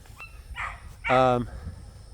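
A dog gives a couple of short barks outdoors at a moderate distance, one faint and one louder, over a low background hum.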